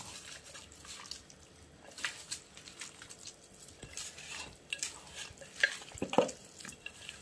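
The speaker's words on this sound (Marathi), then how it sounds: "चला आता मिक्स करून घेऊया." A mixture with a little colour and some oil is stirred in a bowl, soft scraping and wet clicking strokes repeating irregularly, quiet and close.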